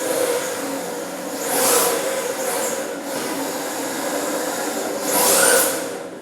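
A Yokomo YD2 RC drift car runs around an indoor track, its small motor giving a steady whine with two louder swells as the car sweeps close past.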